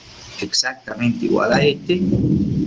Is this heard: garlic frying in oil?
no